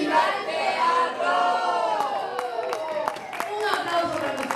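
An audience at a theatre book launch shouts and cheers together in a loud, sustained chorus of voices, with bursts of clapping breaking in during the second half.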